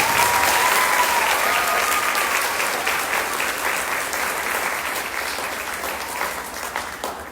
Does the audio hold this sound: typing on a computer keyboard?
no